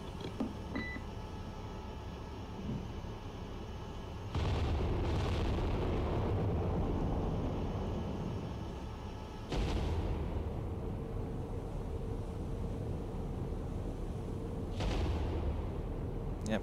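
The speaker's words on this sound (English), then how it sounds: "There we go, full broadside." A battleship's full broadside gun salvo in the naval game Cold Waters, with two deep booming blasts separated by several seconds and a faint third. Each is followed by a long rolling rumble over steady ambient hum.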